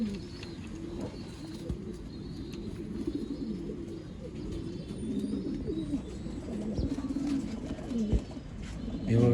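Old line pigeons kept for sale in Bangalore coo in soft, repeated low calls, close by and continuous, with faint background voices and rustling.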